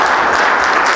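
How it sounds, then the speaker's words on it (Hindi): Loud, dense applause from a crowd at a school government-job award function, a continuous wash of clapping with no voices on top. "जोरदार तालियां हो जाए।"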